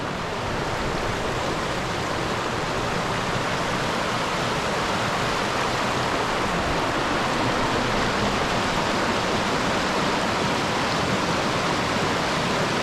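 Water rushes steadily across a Pennines hiking trail near Standedge, a loud, continuous broadband roar with no pauses and no voices.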